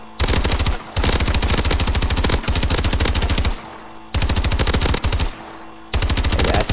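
Loud, rapid automatic gunfire from Call of Duty: Advanced Warfare, fired in several sustained bursts of dense, evenly spaced shots with brief pauses between them, close and dominant with no talking.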